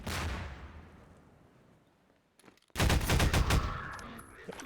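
Gunfire in Half-Life 2: Lost Coast: a heavy blast fades out over two seconds, then after a brief lull a rapid burst of close, loud shots rattles on to the end.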